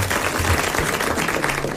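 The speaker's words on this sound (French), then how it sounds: "Eh bien, nous allons applaudir M." Studio audience applause on a 1980 French television talk show, a steady dense wash of clapping that holds at an even, fairly loud level throughout with no voices over it.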